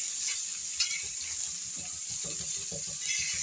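Stuffed bitter gourd (karela) fries in a pan with a constant high sizzle, while soft low knocks and shuffles of the pieces being turned come and go beneath it, close and steady.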